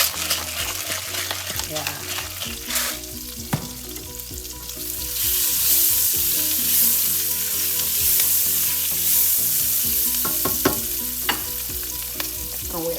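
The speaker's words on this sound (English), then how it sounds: "So we're going to saute the onions with some black pepper." Onions sautéing with black pepper in a hot pan make a loud, continuous sizzle that swells midway, with occasional stirring scrapes and a brief spoken word.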